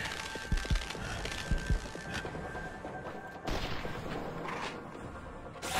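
Gunfire and explosions from the Vanquish video game. A dense, continuous barrage of shots and booms keeps the sound full from start to finish, with a few sharper, louder blasts standing out near the start.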